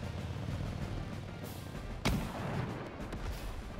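An attack on an artillery unit in Advance Wars brings a sharp thudding shot over a quiet, rumbling game backdrop, with a few softer impacts trailing after it.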